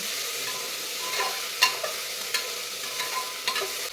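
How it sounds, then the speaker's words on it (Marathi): Paneer and vegetables sautéed on full flame for a veg biryani, a steady sizzle with occasional spoon scrapes and taps against the pan, close and without talk. "आता हे सगळं आपण दोन मिनिट परतून घेऊया फुल गॅसवरच परतून घ्यायचं"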